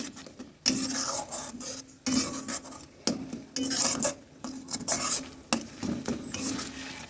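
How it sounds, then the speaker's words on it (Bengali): A spoon stirs a potato and pointed gourd peel mixture in a wok in repeated rasping, scraping strokes against the metal, with short pauses between bursts of continuous stirring. "এটা আমি সারাক্ষণ এভাবে নাড়াচাড়া করতে থাকবো যতক্ষণ না এটা টেনে যায়, কিন্তু খেয়াল রাখতে হবে যেন কড়াইতে লেগে না যায়।"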